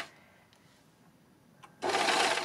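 An overlocker stitches fabric with wrong sides together; after a quiet stretch with a couple of faint clicks, the machine kicks in with a loud, fast, steady whirr near the end.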